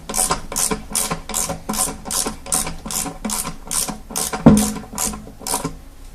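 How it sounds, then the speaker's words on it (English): Rapid ratchet wrench clicks tightening a bolt on the tension pulley of a Vortex polisher, about a dozen steady, evenly spaced strokes close by, with one sharper knock near the end and no talking. "I'm using a ratchet because it's quieter and I can talk while I'm doing this."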